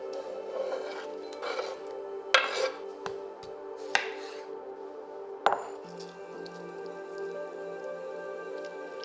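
Chickpea salad with sliced onion and plenty of lemon juice being stirred together in a bowl, giving soft wet squishing with a few sharp clinks of a utensil against the bowl, close and fairly quiet.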